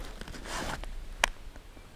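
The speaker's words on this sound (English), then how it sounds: "Pull that zipper down, it exposes a pocket" A zipper on a Maxpedition Xantha bag is pulled down with a short, quiet rasp, followed by one sharp click of the pull amid faint handling noise.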